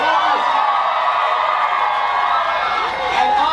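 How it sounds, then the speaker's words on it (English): A crowd at a theatre watch party keeps up sustained cheering, whoops and applause, loud and dense throughout with no letup. "Please give them a round of applause."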